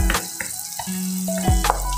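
Garlic sautés in melted butter in a pan, giving a soft steady sizzle with brief clinks and stirring noises on top.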